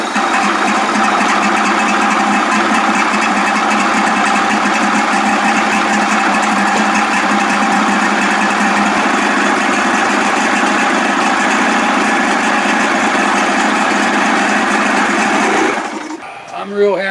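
A 55 hp Evinrude outboard motor runs steadily with a loud, high, buzzing drone and rattling vibration for most of the stretch, then cuts off abruptly near the end.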